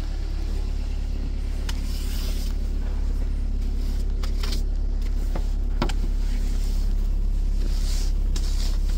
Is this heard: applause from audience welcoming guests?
no